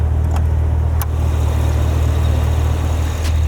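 The 6.2-liter supercharged V8 in a 2025 Cadillac Escalade V idles with a deep, steady, loud rumble heard up close, with a couple of faint clicks over it.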